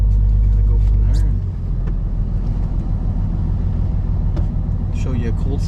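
A turbocharged 6.7 Cummins diesel pickup engine rumbles steadily at close range, its low drone shifting as it pulls through gears, with a brief whine and clicks overhead.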